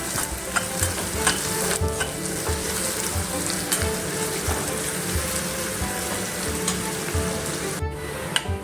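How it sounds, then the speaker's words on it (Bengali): Onions frying in a pan for a Bengali jackfruit and shrimp curry, a steady loud sizzle with repeated scraping stirs of a spatula close by, and no talking. "পেঁয়াজটা নেড়ে চেড়ে নিচ্ছি"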